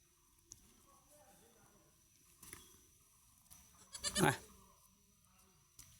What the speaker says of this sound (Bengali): ছাগল ছানারা খেলাধুলা করতেছে এখানে ওই